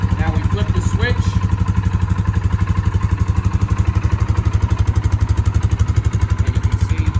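Polaris ATV with its four wheels off the ground on jack stands, running in high gear with four-wheel drive engaged: a steady, loud, rhythmic engine chug with mechanical clatter, close by and continuous.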